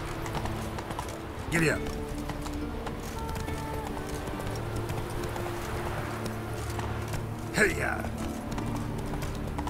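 Roach, the horse in The Witcher 3, gallops with a steady run of hoofbeats under a man's spoken commands, with two sharper bursts standing out.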